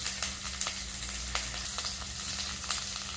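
Fennel seeds and green chilies sauté in hot oil for a white kurma, giving a steady close sizzle scattered with sharp crackles and pops, with no voices.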